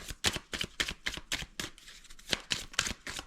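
Tarot cards shuffled for a reading, a close, quiet run of rapid riffling flutters in quick repeated bursts with short pauses between them.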